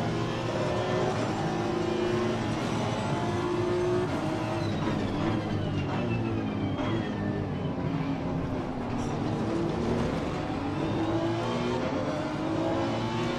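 Engine of an NSX race car in the racing game Assetto Corsa Competizione at Circuit Zolder, held at high revs as a steady dense drone with shifting pitch, and other cars faintly audible around it.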